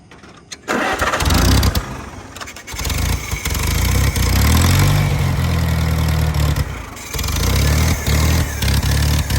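A barn-find Farmall 140 tractor engine with a plugged carburetor cranks and catches, running only on choke: loud, uneven chugging that surges and sags, with stumbling bursts and a brief dip before picking up again, close by and without speech.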